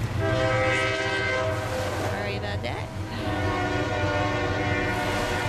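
A passing train in mountain scenery blows its horn in long blasts over the steady rolling rumble of the cars, close and loud, while a person briefly speaks over it.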